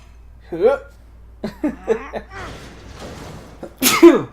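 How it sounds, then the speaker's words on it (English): A person sneezes several times in short bursts while playing a game, with a few separate stifled sneezes and a loud final one, and some breathy sounds between them. "What are you doing, sneezing?"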